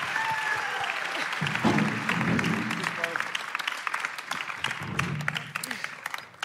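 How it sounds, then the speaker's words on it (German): Steady applause from a church service congregation on a Sunday night, moderately loud and continuous, with a voice speaking over it at times. "Lasst uns einen grossen Applaus geben an Noah, unserem Sesselträger."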